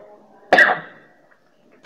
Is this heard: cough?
yes